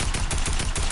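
Rapid sniper rifle fire in a first-person shooter, several sharp broadband cracks about every 0.15 to 0.3 seconds, loud and close, with a low rumble underneath and no talking.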